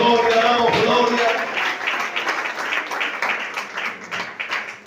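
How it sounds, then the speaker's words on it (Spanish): Congregation applause and clapping at a Spanish-language Sunday school church service, loud and dense at first, then tapering into scattered claps under faint voices. "Denle ese aplauso a Jesús, por favor"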